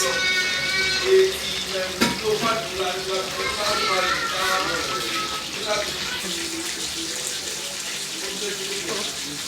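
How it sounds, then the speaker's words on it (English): Chopped green pepper frying in a pan for Nigerian party fried rice gives a steady, close hiss and sizzle that runs under a person talking. "So the green pepper, so we'll allow it fry a bit."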